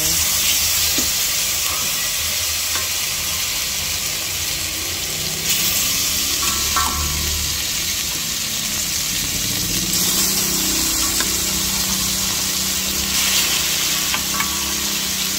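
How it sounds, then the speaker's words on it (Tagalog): Barbecue pan-frying in a hot skillet, a loud, constant hissing sizzle that fills the whole stretch, with faint scraping and clatter mixed in. "Mainit na po yung kawali natin, no? Fry na po natin."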